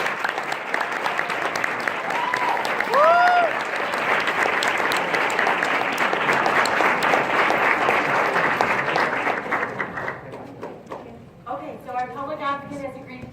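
An audience applauds after a political speech at a leaders conference, broad steady clapping that fades near the end, where a voice begins speaking.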